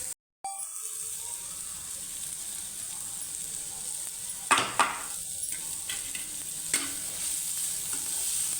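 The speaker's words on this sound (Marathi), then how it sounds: "ते असं तेलावर परतवून घ्यायचं कांदा आणि कारली" Sliced onion and bitter gourd stir-fry in oil with a cumin, garlic and coriander paste, giving a steady close sizzle with a few sharper spoon scrapes and clanks against the pan.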